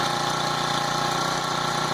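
A Honda GX25 small four-stroke engine fitted to a motorized bicycle idles steadily, a close, even mechanical putter with a constant rhythmic pulse and no talk.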